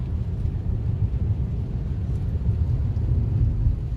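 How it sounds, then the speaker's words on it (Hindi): A thunderstorm with strong wind blows outdoors as a steady low rumble and broad roar, fairly faint and unbroken, with no voices. "अभी इतना तेज आंधी था?"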